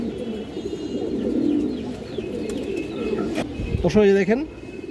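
Pigeons are kept for sale, with soft coos and a few brief chirps under steady background noise and some handling sounds, close and moderately loud.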